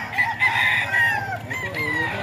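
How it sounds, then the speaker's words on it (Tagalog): A five-month-old Kanawayon gamefowl rooster crows loud and close, then trails into short clucks. "Ito yung manok na yung Boss Randy, oh."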